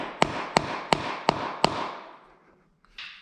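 Five sharp metallic taps about a third of a second apart drive floor anchors home with a socket while a compact bender is bolted to the floor, each strike ringing briefly before fading, then a short rustle.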